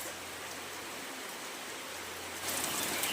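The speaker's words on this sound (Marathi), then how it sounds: "दुपारच्या नंतर जो पाऊस चालू झालेला आहे बाप रे तो थांबलेला नाही आहे" Heavy afternoon rain pours steadily as a dense, continuous hiss with no letup, growing slightly louder and brighter near the end; no voices.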